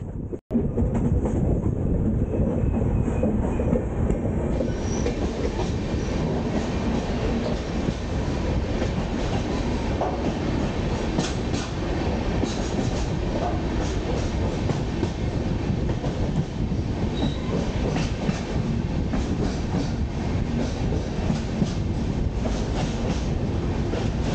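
A train runs through the Western Ghats with a steady, loud rumble and rail clatter that fills the whole stretch, close by and unbroken, with no voices.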